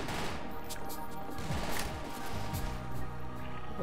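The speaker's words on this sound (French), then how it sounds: "Vous avez vu un peu comment ça fait quand on tire avec une Winchester." Rapid gunfire from a Winchester rifle in the zombie shooter game Zombie Panic Source, a dense burst of repeated shots layered with other gunfire and game noise, loud and close.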